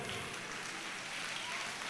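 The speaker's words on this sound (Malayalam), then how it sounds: "ഒരു ക്ലാപ്പ് എടുക്കൂ." A crowd of children at a family gathering claps together in a brief, soft, continuous patter of many hands.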